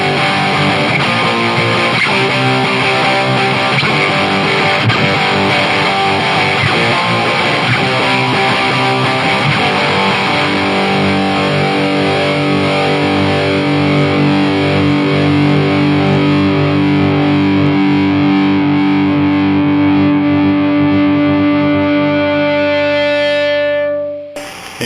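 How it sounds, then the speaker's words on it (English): A heavily distorted electric guitar rings out through a Peavey 6505 2x12 combo amp, gain on 10, sustained chords swelling into singing feedback tones, loud and continuous before cutting off abruptly. "You can hear some nice feedback there"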